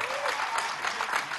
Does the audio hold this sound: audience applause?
yes